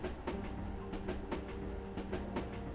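A train rolls along the tracks at night, a steady muffled rumble broken by evenly spaced wheel clicks, about three each second, close and continuous.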